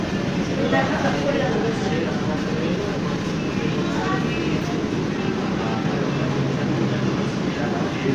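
An AC local train on the Ranaghat to Sealdah line pulls into Naihati Junction, its steady loud rumble and rolling wheel noise filling the whole stretch without a break.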